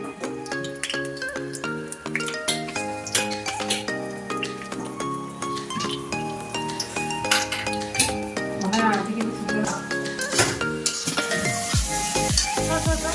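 Dried red chilies and cumin fry in a pan with a bright crackling sizzle, while a utensil repeatedly stirs and clinks against the metal. Background music plays throughout.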